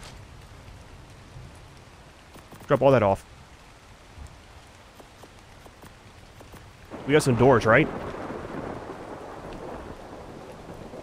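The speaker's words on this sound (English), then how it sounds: "It's raining." Rain and rolling thunder in the video game ARK: The Center Ascended, steady rainfall throughout with two louder thunder rumbles, under a man's speech.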